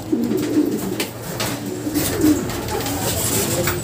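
Trophy-winning racing pigeons coo steadily inside their loft, a close, continuous chorus of soft, throaty calls layered over one another for the whole stretch with no talking.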